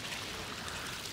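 Tecolutla River at Gutiérrez Zamora, Veracruz, running high: a steady, dense wash of flowing water fills the whole moment at an even level, with no voices.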